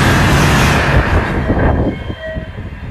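A fast train in Japan rushes past with a loud, broadband roar that fades after a couple of seconds, leaving a fainter rumble and a brief tonal whine, with no voices.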